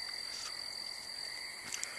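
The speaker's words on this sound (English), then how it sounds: "I hear a frog and buzzing sounds." Frogs croak at night, a faint, steady chorus of pulsing calls, with a thin, high insect buzz running continuously beneath them and no talking.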